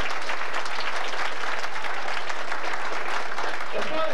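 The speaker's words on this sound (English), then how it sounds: "Let's get a round of applause for this." An audience claps in sustained applause at a 1992 Blue and Gold scouting banquet, a dense continuous wash of hand claps filling the whole stretch at steady loudness.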